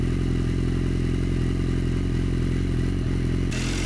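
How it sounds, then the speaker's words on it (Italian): An inline four-cylinder motorcycle engine of over 200 horsepower with an SC Project exhaust warms up at idle, a deep, throbbing low rumble, close and loud throughout, with a brief shift in tone near the end. "riscaldare per bene questo 4 cilindri in linea da più di 200 cavalli"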